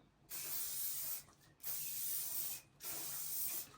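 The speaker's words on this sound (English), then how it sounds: "I'm now just going to go in with some hairspray, spray it all over." Three long bursts of hairspray from an aerosol can hiss, each lasting around a second, separated by brief pauses, close and steady.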